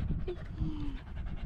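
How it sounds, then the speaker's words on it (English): A dog pants excitedly in quick breathy bursts close by, with a faint whimper and a human voice briefly underneath. "Such a speedy dog you are."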